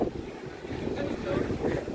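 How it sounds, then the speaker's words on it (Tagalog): Strong wind buffeting the microphone at Bagasbas, a steady, loud, rumbling roar with gusty swells throughout and no clear voice. "Sobrang hangin."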